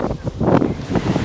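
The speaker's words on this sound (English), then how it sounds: "it's so windy, gusts of up to 50 miles an hour" Strong gusts of wind up to 50 miles an hour on Galveston Island, Texas, buffet the microphone in a loud, rumbling roar that surges and eases repeatedly.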